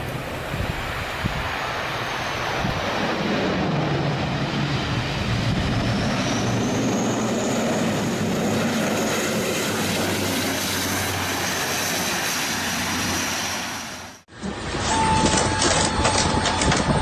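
A loud, steady airplane engine roar with turbulent rushing air during a landing in extreme weather in the Azores, Portugal, lasting a long stretch before cutting abruptly to a different, quieter cabin hum.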